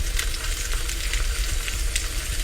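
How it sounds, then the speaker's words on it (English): Steak sizzles loudly in a hot pan, a dense, continuous crackling hiss with small pops, heard close up and alone. "And you can hear that sizzling sound."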